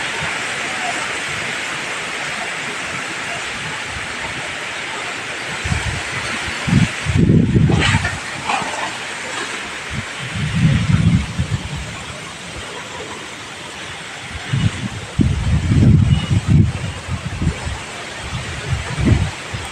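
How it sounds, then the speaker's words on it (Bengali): Strong wind roars steadily through trees outdoors before a storm, a loud broadband rush throughout, with someone talking over it in several bursts. "প্রচণ্ড বেগে হাওয়া বইছে গাছপালা আছে তো এত ঝড়ঝড় ঝড়ঝড় করে আওয়াজ হচ্ছে"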